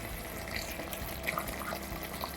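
Water is poured into a pot of Ankapur-style chicken curry, a soft continuous splashing and trickling heard close and fairly quiet, with no talk.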